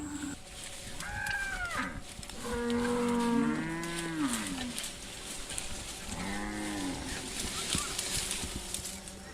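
Ankole Watusi cattle, a rustic tropical bovine breed, give several drawn-out, wavering moos in bursts over a low outdoor background, with a couple of calls overlapping near the middle.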